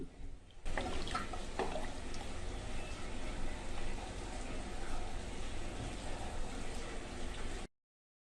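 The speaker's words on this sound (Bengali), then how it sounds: "একটু ঝোল দিয়ে দিচ্ছি।" Beef curry simmering and bubbling in a pot as broth is poured in, a steady close liquid wash and gurgle running for several seconds before stopping abruptly.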